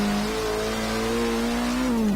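Abarth 695 Biposto engine in Forza Horizon 3 holding a steady loud, droning high-rev note at close range, its pitch climbing slightly before dipping at the end, with no talk over it.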